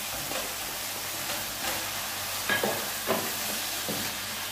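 Vegetables and green chilies frying in a pan as they are stirred, a steady soft sizzle with a few louder scraping stirs, close and without talk.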